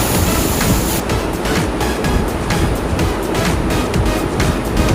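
Small waterfall pouring into a natural rock pool at Golari falls near Karwar, a steady loud broadband rush of falling water filling the whole scene without pause.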